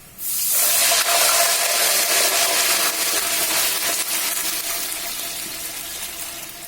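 Water pours in a steady, loud rush onto hot ghee with roasted cashews and raisins in a pot for Kashmiri pulao. The hissing splash starts abruptly and continues alone, easing slightly toward the end.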